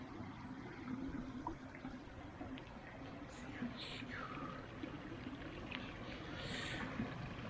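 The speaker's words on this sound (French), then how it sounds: "Et donc là, un petit ruisseau qui est vraiment très sympathique." A small stream trickles and burbles along a mountain bike trail, a faint, continuous watery hiss under someone speaking quietly nearby.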